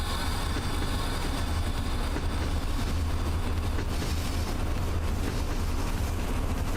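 In the Train Driver 2 video game, a train rolls with its brakes applied, giving a constant dense rumble with a hissing, grinding wash that stays even and loud throughout, with no voices.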